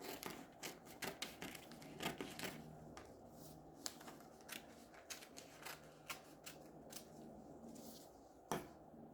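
Scissors snipping through fabric while cutting out the neck of a princess-dart bustier with yoke, a steady run of quiet, crisp clicks and snips close by, with no talk.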